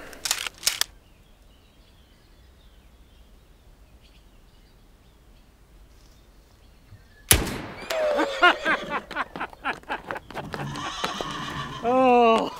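A horse neighs loudly near the start, then after a pause hooves clop along with more whinnies and busy rustling, ending in a dense burst of movement, during a rough Western scene with a rider on a pony.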